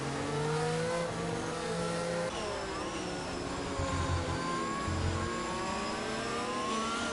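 Formula 1 engines scream in the F1 22 video game during a Miami Grand Prix league race. Several cars rev and shift, overlapping in loud, continuous whines that rise and fall close by, with no talking.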